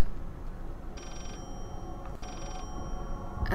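Telephone ringing in the horror video game Layers of Fear, two faint electronic ring bursts separated by a pause, heard at a distance under a low, dark ambient drone.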